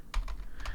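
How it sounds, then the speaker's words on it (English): A computer keyboard typed on right next to the microphone, with a few quick clusters of sharp, close clicks over a low steady background hum and no talking. "How cool is typing over the mic?"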